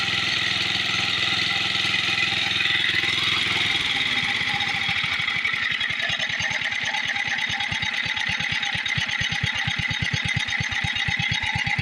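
A vintage 1972 Simplicity 637 Yeoman riding mower engine idling low and steady, loud and close, its rhythmic putter settling into a slow even beat partway through, with no talk.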